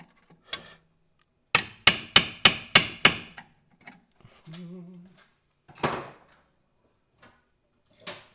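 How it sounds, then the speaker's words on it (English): A screwdriver prying at and breaking off a tie rod clip during tie rod replacement on a 2002 VW Jetta MK4, with a quick burst of five sharp metallic knocks, then scattered clicks and a final snap, close and isolated. "Let's try a screwdriver on there. I'm gonna try and just break it."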